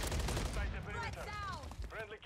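Gunfire in the Call of Duty Modern Warfare 3 video game, a dense burst of shots at the start giving way to whizzing, ringing game effects, with a voice speaking over the mix.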